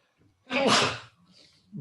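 A single sneeze bursts out during a lecture on computational geophysics, loud and breathy with a sharp start and a short tail, followed by a faint breath.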